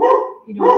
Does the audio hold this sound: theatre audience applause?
no